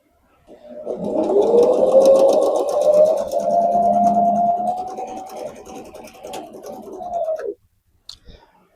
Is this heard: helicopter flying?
no